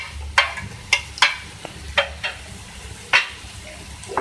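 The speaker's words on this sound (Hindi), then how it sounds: "प्याज फ्राई होना शुरू हो चुकी है" Chopped onions and green chilies fry in a pan for an omelet under a soft, steady sizzle, broken by sharp spatula scrapes and taps every half second or so, with no one speaking.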